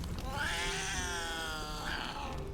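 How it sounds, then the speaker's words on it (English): A cat meows and caterwauls in the video game Baldur's Gate 3, one long drawn-out, wavering cry lasting a couple of seconds, close and fairly loud. "I heard the cat."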